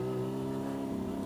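A motorcycle pulling away from a stop up a hill on a road, its engine note rising smoothly as it accelerates over a short burst, close and steady.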